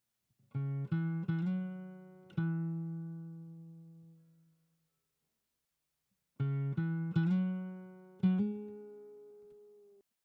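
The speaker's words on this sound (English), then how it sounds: "And so I recorded this with an acoustic guitar." Plain, dry acoustic guitar playing two short phrases of plucked notes separated by a pause of silence, each phrase ringing out and fading.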